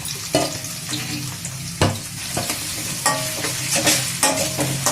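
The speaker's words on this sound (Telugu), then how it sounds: "ఆయిల్ వేడికాక ఉల్లిపాయలు వేయాలి." Sliced onions frying in hot oil for a potato fry, a steady close sizzle broken by repeated scraping stirs and sharp utensil knocks against the pan, with no voices.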